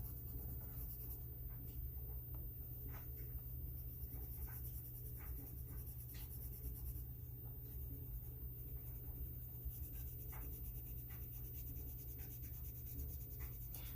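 A pencil shades a page of a coloring book with soft, quiet scratching strokes held in a light grip, a steady run of small rasping sweeps against a faint background hiss, with no talking.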